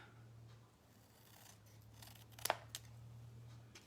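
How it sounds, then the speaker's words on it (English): Quiet snips of scissors cutting through stiff A4 cardstock, a few sharp crisp cuts clustered together over a faint steady hum. "you can just do it with your scissors"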